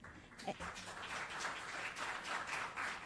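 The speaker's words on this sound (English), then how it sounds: "Can we do a round of applause to our sponsors?" Audience applause at a summit in New York, a broad steady wash of many hands clapping at moderate distance, swelling in after a brief pause and continuing throughout.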